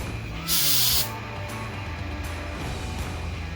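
A single short burst of carb cleaner spray from an aerosol can hisses loudly for about half a second while working on an ATV that won't start, followed by a steady low background hum.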